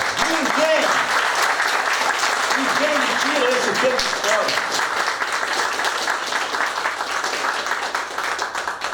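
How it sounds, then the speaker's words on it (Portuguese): Sustained crowd applause fills the whole stretch, steady and loud, with someone speaking over the clapping at the start. "Eu peço um aplauso ao prefeito"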